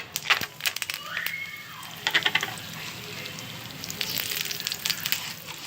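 Peanuts hit hot oil in a pot for lemon rice tempering, setting off bursts of crackling and a loud sizzle that settles into a steady fizz with scattered pops.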